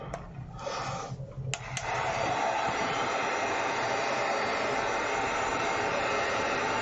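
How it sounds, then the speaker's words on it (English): A heat gun warming EVA foam for a lollipop craft blows with a steady, loud airy roar, faint sounds and a couple of clicks at first, then a constant close whoosh as it sweeps back and forth. "So I'm just going to run my heat gun back and forth"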